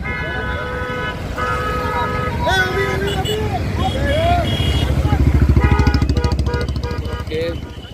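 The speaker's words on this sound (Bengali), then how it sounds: "সবাই সারিবদ্ধভাবে সুশৃঙ্খলভাবে আমাদের এই বাইক র্যালিতে অংশগ্রহণ করেছেন।" A bike rally rolls by on a road with many motorcycles. Horns toot in long tones over the rumbling engines, and the engine roar swells loudest toward the end, mixed with crowd voices.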